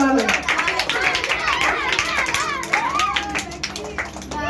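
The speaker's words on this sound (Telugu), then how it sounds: "మీరు క్లాప్స్ కొట్టి ఎంకరేజ్ చేయొచ్చు" Children at a one-day camp clap rapidly and unevenly to cheer on a game. The clapping is close and mixed with lively children's voices and chatter throughout.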